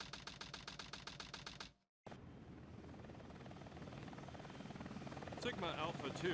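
Helicopter rotor in the opening of Sonic Adventure 2, a rapid, regular thudding chop that cuts out abruptly, then a steadier engine drone with talking layered over it.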